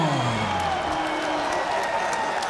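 A dense crowd at a Bellator MMA event in London roars steadily, with sustained applause, scattered whoops and cheering filling the arena at a loud, even level throughout.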